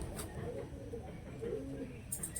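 A Madras pigeon, a long-distance flying breed, gives soft, low, rolling coos at close range over a steady background hum, with a brief higher chirp near the end.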